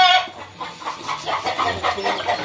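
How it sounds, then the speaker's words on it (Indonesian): Chickens clucking and murmuring nearby in a loose, irregular series of short calls. "di sini ada ayam lah"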